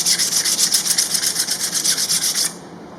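Burr being sanded off the sides of a part on a fine-grit diamond plate, quick rhythmic back-and-forth rasping strokes, about a dozen close loud scrapes in two seconds, then stopping.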